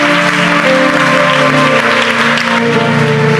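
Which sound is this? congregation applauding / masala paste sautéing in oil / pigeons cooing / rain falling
congregation applauding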